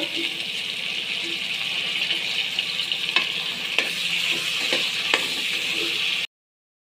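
Onions and mint frying in a pan for bagara rice give a loud, continuous sizzle with a few sharp stirring clacks near the end before the sound cuts off abruptly.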